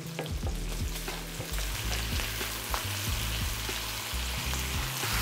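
Kimchi hits a hot pan and is stir-fried, a steady loud sizzle and crackle with intermittent scraping and stirring clatter throughout, no voices.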